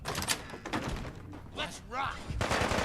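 Automated turret gunfire in Fallout 4 with the Sim Settlements 2 mod, a handful of sharp bursts spread across a few seconds and mixed with other game sounds and voices.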